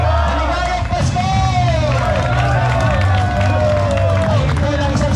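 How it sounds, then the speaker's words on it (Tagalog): Large holiday-show audience at Las Casas Filipinas roaring, cheering and clapping, a loud continuous wall of crowd noise with whistling voices rising over it. "Ay ito lang isang sigawan na nagkasamang palakpakan!"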